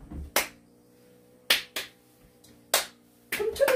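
Hands clap sharply in a quiet room during a seated yoga session, about five separate claps at uneven intervals, close and crisp.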